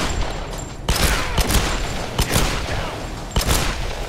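Bursts of gunfire from the 2013 Tomb Raider video game: several loud sharp shots spaced irregularly across a noisy battle din, with no talking over them.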